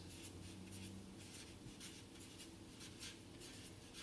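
Pen or pencil writing notes on paper in a classroom setting, a soft continuous scratching and rubbing that runs steadily throughout, close by and alone with no talk.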